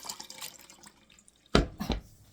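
Homemade apple cider vinegar poured from a heavy metal vessel and strained, giving two loud, close splashy gushes of liquid after a quieter stretch of faint dripping.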